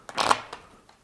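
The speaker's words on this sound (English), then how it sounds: "So when the player goes to shuffle the cards," Playing cards shuffled at a poker table, a short riffling burst of papery clicks followed by a couple of fainter flicks, close and alone.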